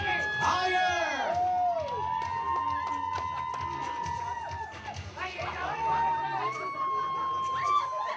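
Wedding guests yell, scream and cheer loudly during a garter toss, a crowd of voices with whoops and shrieks rising and falling throughout, a host's voice breaking in over the din.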